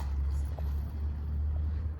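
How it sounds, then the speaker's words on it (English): A car passes near an outdoor RC car driving spot, heard as a steady low road rumble under faint background noise. "I can hear a car."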